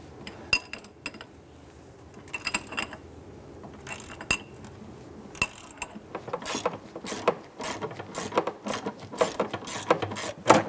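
A 13 mm swivel socket on a ratchet works a bolt under a 2011–2019 Ford Explorer 3.5L, near the lower control arm behind the gas tank, giving sparse metallic clicks at first, then a denser run of rapid ratcheting clicks.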